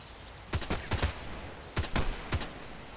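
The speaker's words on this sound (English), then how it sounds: "So he's shooting at him." Gunfire in the game Contract Wars comes as short bursts of rapid shots, with three or four separate clusters cracking out of a quiet background. No one speaks.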